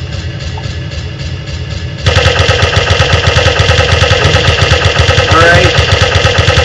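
Uzi submachine gun firing in the video game Radio Zed, a dense rapid burst of automatic fire that jumps louder after a couple of seconds and stays steady, with a brief spoken word over it.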